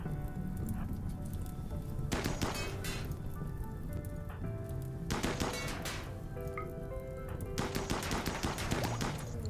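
Gunfire from colonists in the colony-building game Rimworld: bursts of sharp shots crack out over a steady low background hum, with several clustered volleys separated by quieter gaps.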